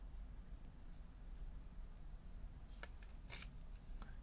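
Card stock is trimmed for a card base: a few crisp paper-cutting strokes come near the end, faint and close, over a low, steady room hum.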